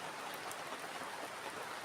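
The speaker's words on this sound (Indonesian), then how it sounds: "malam ini hujan-hujan seperti ini ya" Steady rain falls at night outdoors at a campsite beside a river under a large tree, a soft, even hiss of drops with no pauses, alone and without voices.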